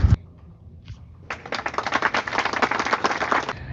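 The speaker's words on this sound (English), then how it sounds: "Why was everybody clapping?" A burst of hand clapping from several people in an office, starting after a sharp knock and a faint tap, then a dense, lively patter of claps growing fuller and continuing.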